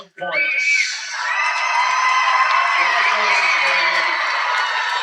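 High school boys basketball crowd roaring in a packed gym, a sustained loud wall of cheering, whoops and shouting that swells after a brief start and holds at full volume.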